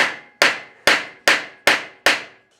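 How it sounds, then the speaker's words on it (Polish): Six sharp metallic taps from a small hammer on a rusted hexagonal bolt head, at a steady, unhurried pace, each ringing briefly and decaying before the next strike, close and fairly loud. "Musimy ją leciutko opukać. Młoteczkiem"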